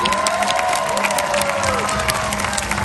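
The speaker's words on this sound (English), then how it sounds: "I think we're going to need to give her another big round of applause to help cheer her on." Crowd at an outdoor sea lion show at the Long Island Aquarium claps and cheers, a brief burst of applause with whoops and children's shouts, close and lively with wind noise.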